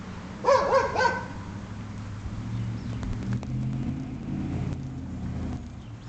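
A dog lets out three quick, loud barks at cars close by, followed by the rumble of passing traffic, in a garden.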